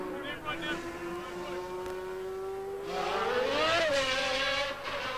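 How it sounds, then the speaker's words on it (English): The Lamborghini V12 engine in the Camel Lotus Formula 1 car during 1990 United States Grand Prix qualifying in Phoenix, a high steady whine that climbs in pitch and grows louder as the car passes, with commentary over it. "there we see and hear a new sound in the back of the Camel Lotus, the sound of the Lamborghini V12 engine"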